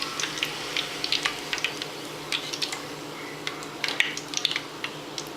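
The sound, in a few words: plantains frying in oil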